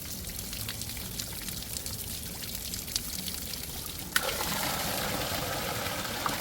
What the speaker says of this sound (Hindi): आजकल देखिए मतलब कि पूरा ओवरफ्लो भी हो रहा है यहाँ से पानी